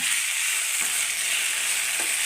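Ivy gourd (kovakka) goes into hot oil with frying onions, grated coconut and green chili for a Kerala stir-fry, giving a loud, steady, close crackling sizzle that continues without pause and with no talking.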